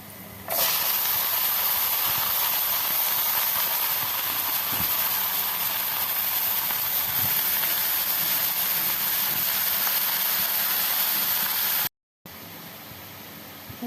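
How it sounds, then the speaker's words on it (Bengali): Bottle gourd frying in a pan with cumin, a steady broadband hiss of sizzling oil that starts abruptly and holds evenly, then cuts out briefly near the end. "লাউটা ঢেলে দিব।"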